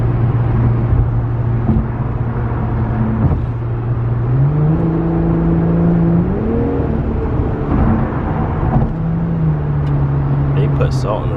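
Low, continuous exhaust growl from an Infiniti Q50 with its muffler deleted, heard from the cabin at night as the engine note climbs and settles with throttle changes, with a person speaking over the drone.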